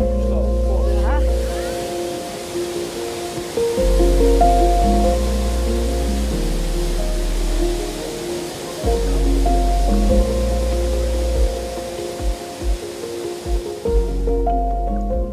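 Water rushes and sprays through a gorge near Dornbirn, a steady broadband roar running throughout beneath prominent tonal music.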